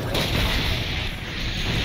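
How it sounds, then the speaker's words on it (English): A cannon fires in a video game, a heavy low boom rumbling loud and close with a broad roaring tail for about two seconds. "Oh, we got the cannon."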